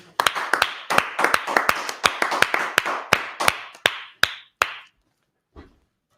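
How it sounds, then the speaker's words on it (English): A small group claps for a history class, sharp irregular claps close by that thin out and slow down over several seconds before stopping, with one last faint clap afterward. "Clap it up for the class"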